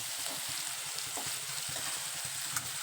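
A bread snack mixture cooks on a low flame, giving a soft, steady sizzle with faint stirring scrapes, quiet and continuous with no talking.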